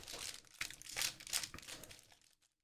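Foil-wrapped Magic: The Gathering booster packs crinkle and rustle in close, quiet handling, a few seconds of irregular crumpling that fades to silence.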